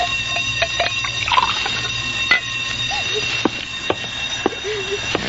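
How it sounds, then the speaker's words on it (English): An alarm bell rings steadily in a radio drama after an explosion. The continuous metallic ringing sits under talk and scattered bumps and clatter. "And turn off that alarm."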